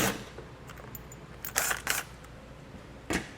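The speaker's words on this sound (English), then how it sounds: "8mm socket to remove it" An 8mm socket on a ratchet loosens the bottom panel fasteners while a Roadmaster crossbar-style base plate kit is set up on a 2020 vehicle: a few short, close bursts of crisp ratcheting clicks with quiet pauses between.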